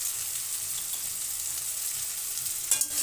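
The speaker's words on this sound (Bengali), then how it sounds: "দিয়ে ভালো করে মিশিয়ে নিলাম। এইভাবে 2 মিনিট নেড়ে নেব।" Spiced pickle mixture stirred in a hot pan, a steady broadband sizzle with soft scraping throughout and one brief louder clatter near the end.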